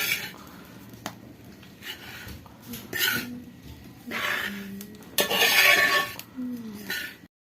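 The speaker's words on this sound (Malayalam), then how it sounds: "ഇത് നന്നായി ഇളക്കി കൊടുക്കാം." Metal scraping and clinking in a pot as avalos podi (roasted rice flour and coconut) is stirred, rasping strokes repeating steadily, close by.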